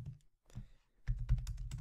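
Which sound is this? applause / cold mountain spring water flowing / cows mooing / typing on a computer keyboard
typing on a computer keyboard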